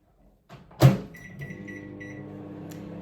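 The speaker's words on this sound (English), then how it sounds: "put this lot in your microwave for 2 minutes" A microwave oven runs with a fudge mixture inside, starting with a door thump, then a steady low hum and a faint high whine that continue evenly.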